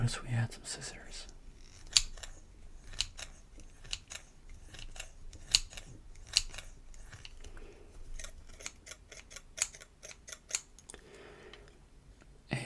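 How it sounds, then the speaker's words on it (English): Scissors snip and click in a close, quiet ASMR setting, a steady series of crisp, sharp cuts with soft handling noises between them. "I noticed we had some scissors."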